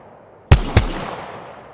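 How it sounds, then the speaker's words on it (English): Two loud gunshots ring out close together in the Apex Legends video game, each sharp crack followed by a booming tail that fades over about a second. "Opening fire."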